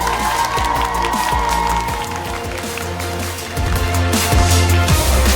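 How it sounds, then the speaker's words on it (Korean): A crowd at a League of Legends esports finals, the 2022 LCK CL Summer match between Nongshim RedForce and DWG KIA, applauds loudly and steadily, a dense wash of clapping and cheering under stage music. "여러분, 오늘의 주인공들에게 다시 한번 뜨거운 박수 부탁드립니다."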